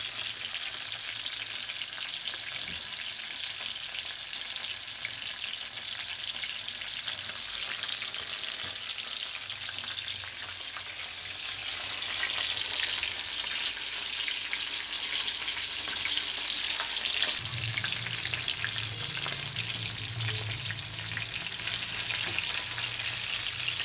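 Curry leaves fry in hot oil with a continuous crackling sizzle that grows louder and busier partway through, heard close up with no voices.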